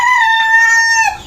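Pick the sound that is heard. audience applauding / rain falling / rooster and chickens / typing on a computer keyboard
rooster and chickens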